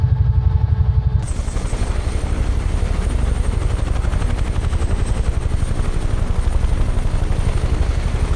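UH-1H Huey helicopter in Microsoft Flight Simulator, heard from inside the cockpit: a steady, loud rotor thump and turbine drone that kicks in abruptly after a brief quieter moment, then holds constant with a thin high whine, no talking.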